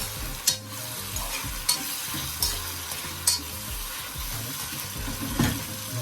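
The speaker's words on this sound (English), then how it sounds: "Right, let's give it a stir." Fried chicken is stirred in a pot for Jamaican brown stew chicken, with a spoon scraping and clanking every second or so over a steady sizzle.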